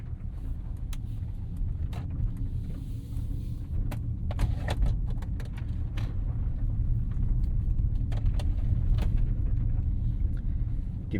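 Tire and road noise inside a 2025 Mercedes-AMG GLC 63 S E Performance on the move, a constant low rumble with scattered clicks and small knocks from the cabin, no voices.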